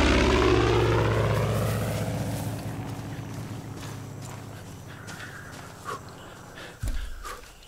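A propeller airplane in the video game Far Cry 5 roars loudly overhead, then gradually fades into the distance, with a few faint thuds near the end.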